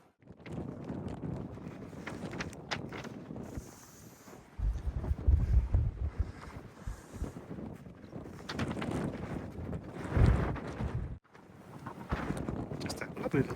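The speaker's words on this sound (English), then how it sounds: "Quite blowy here." Gusty wind on a sunny coastal footpath near a small beach in Cornwall, rumbling and buffeting close to the microphone in uneven surges, strongest about midway through, with no talking.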